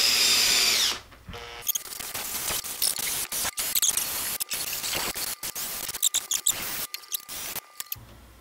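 A power buffer whirs loudly at first, then drops into intermittent rubbing and grinding bursts as an acoustic guitar's finish is polished, starting at the headstock, with frequent short pauses between passes.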